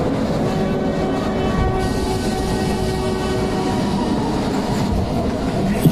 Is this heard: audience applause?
no